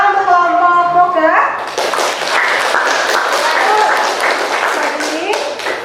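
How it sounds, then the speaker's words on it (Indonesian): After a teacher's short sustained voice, a classroom of students claps for a group in a lesson, a lively burst of close, sharp hand claps that continues steadily to the end. "kita beri tepuk tangan untuk kelompok Moga"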